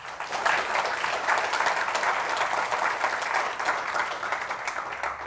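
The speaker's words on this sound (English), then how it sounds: "maybe we can just give them a round of applause." An audience at a workshop event gives a round of applause, dense and sustained clapping from many hands, fairly close and even throughout with no voices standing out.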